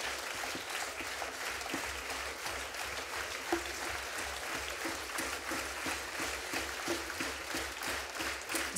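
An audience applauds at an orchestra concert of folk instruments, dense, steady clapping from a large crowd that keeps going evenly throughout, loud and close, with no speech over it.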